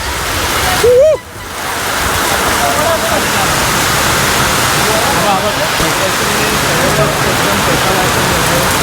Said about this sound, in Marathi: पाऊस बघा किती मुसळधार पाऊस आहे